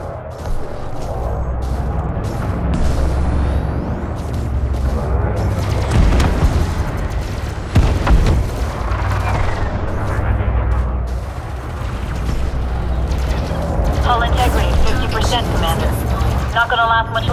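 Enemy fire and explosions striking a ship in a space combat video game, a continuous rumbling barrage of deep booms and impacts with crackling bursts, steady and loud throughout.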